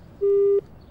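A single short telephone busy-signal beep, a steady pure tone lasting under half a second, clear and close against quiet line hiss.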